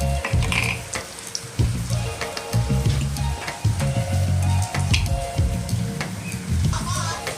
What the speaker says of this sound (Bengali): তেলের মধ্যে আমি প্রথমে কী দিয়ে দিচ্ছি বড়ি